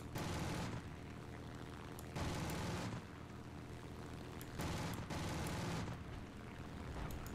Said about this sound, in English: Let's shoot right now to make sure he's alive.